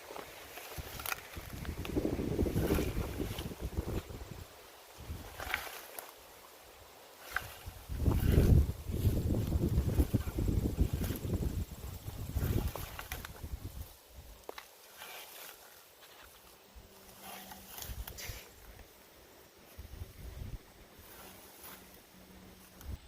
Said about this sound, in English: you can actually hear the buckwheat cracking and the ragweed